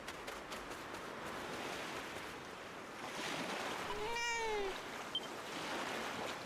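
A cat in the video game Dragon Quest 7 Reimagined gives a single clear, falling meow partway through, heard over a soft, steady wash of surf-like ambience.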